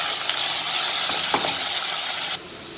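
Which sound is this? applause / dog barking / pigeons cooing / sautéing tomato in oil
sautéing tomato in oil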